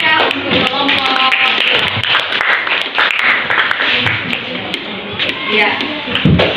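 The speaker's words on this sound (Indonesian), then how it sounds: "kasih tepuk tangan yang meriah untuk kelompok" Students in a classroom clap for their group, a dense close wash of hand claps with scattered taps and shuffles, continuous for several seconds with voices mixed in.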